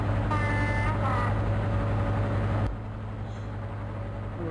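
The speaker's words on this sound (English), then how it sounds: "I think the Deltic sounds pretty good in this game" A Deltic diesel locomotive in the Open Rails train simulator drones steadily with a heavy, throbbing engine note, then drops to a lower, quieter hum partway through.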